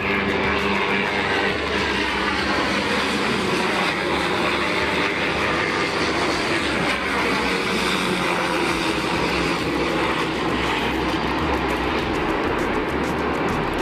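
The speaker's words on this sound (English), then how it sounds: "That is 2 helicopters flying above, or flying through downtown Chicago." Black Hawk helicopters flying over downtown Chicago at night, a loud continuous roaring engine wash with dense rumble echoing between towers, steady throughout and without talk.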